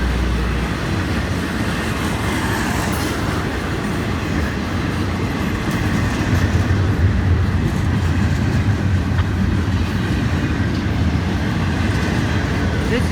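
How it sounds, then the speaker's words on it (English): FEC freight train with CSX cargo passing through Stuart, Florida, bound for Miami: a loud, continuous rumble of rolling railcars with steady rail noise, close by and unbroken throughout, with a voice speaking faintly over it. "The rails make a lovely humming sound before the train approaches."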